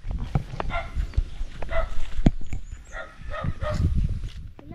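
A dog barks several times in short bursts at close range, mixed with footsteps and outdoor clatter.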